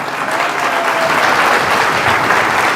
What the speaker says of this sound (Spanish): A los músicos que cantan muy bien, un aplauso para ellos también,